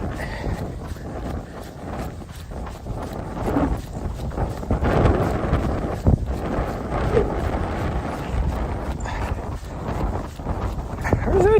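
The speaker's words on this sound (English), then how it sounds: "I just can't hear anything because it's so windy." Strong wind buffets the microphone on a mountain trail during a run, a steady rushing roar with gusty swells throughout, faint voice-like sounds underneath.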